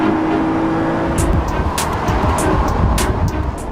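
A Lotus Evora sports car with a rear-mounted 280 hp 3.5-litre V6 drives steadily, a loud continuous engine drone with road roar and brief tyre or wind hiss bursts, no voices.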